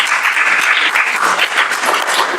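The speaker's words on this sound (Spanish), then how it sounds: "un aplauso por su explicación" An audience at a conference on European child policy applauds loudly and close by, a dense, steady patter of clapping hands lasting a couple of seconds.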